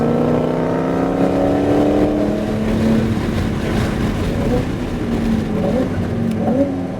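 Car engine revving steadily as the driver rolls on the throttle around Sonoma Raceway in a GT4, Ferrari 296 or Lamborghini Huracan, loud and close with rising and falling pitch throughout.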